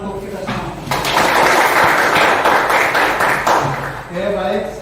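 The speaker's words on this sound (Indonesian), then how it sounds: "Tepuk tangan untuk kita semua." A class at a morning session bursts into dense clapping that swells and holds for about three seconds, then fades as voices carry on over and around it.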